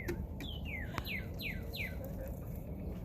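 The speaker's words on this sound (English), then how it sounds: "Hear the birds?" Small birds chirp around a backyard farm in spring, a quick series of five or six descending whistled notes, fairly faint over a low background hum.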